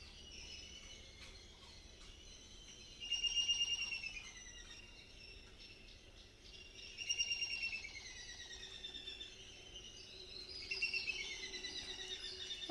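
Sparrows chirp and twitter at a distance in soft, repeated bursts that swell every few seconds over a quiet outdoor background.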